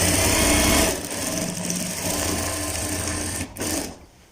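Sewing machine stitching a seam to the end on a kid's kurta, a loud continuous close-up whirr that slows and stops briefly near the end.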